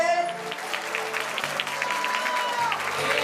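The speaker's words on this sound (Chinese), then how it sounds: "掌声跟尖叫在哪边？" Applause fills a Taiwanese wedding banquet hall, a dense burst of clapping from many guests with a few shrill cheers mixed in.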